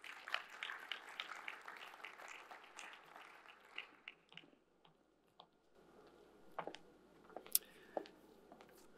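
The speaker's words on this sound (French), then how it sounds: "Sous vos applaudissements, mesdames et messieurs." Audience applause at a business conference panel opening in Morocco, a dense patter of clapping that thins out and tapers off over the first half, followed by scattered faint claps and small knocks in a quieter room.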